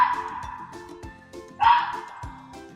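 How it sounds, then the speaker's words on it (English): A fox barking in short repeated yips and barks, fairly close, with one louder, brighter bark burst in the middle of a steady background hum. "Fox."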